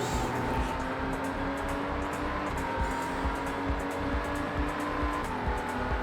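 A Lamborghini racing video game plays steady, loud engine drone and road noise from a car racing on track, with faint tyre squeal under braking and no one speaking.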